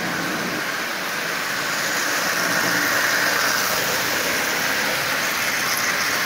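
A Marx 898 toy engine motor runs steadily. The whirring, rattling drone is close and constant throughout and does not change in rhythm. No one speaks.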